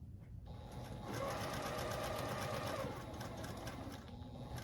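Close, steady whir and rapid needle clatter of a sewing machine stitching quilt block pieces together, running continuously for a few seconds after a brief start.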